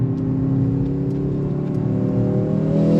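A 2024 Mercedes-AMG C63 S E sedan under throttle, its engine note rising steadily in pitch as it accelerates, loud and close from the cabin with a constant road roar and no talk.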